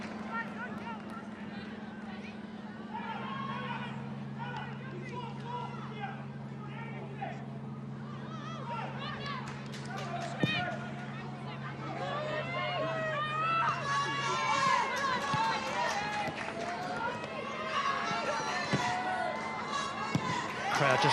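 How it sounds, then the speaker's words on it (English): Home-side football crowd at an A-League match between Wellington Phoenix and Melbourne Victory, a broad continuous stadium roar that swells louder in the second half, with a steady sustained tone and scattered shouts. "Crowd just looking to add a bit of extra encouragement as they try and roar home their home side."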